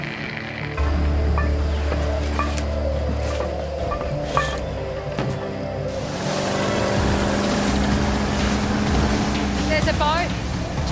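A motorboat engine drones steadily up close, with water sloshing around it and a brief rise in pitch near the end.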